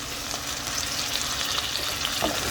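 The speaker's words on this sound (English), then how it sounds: "Let that saute" Tomatoes sauteing for shrimp and grits, giving a dense, steady sizzle close up with faint stirring through it and no voices.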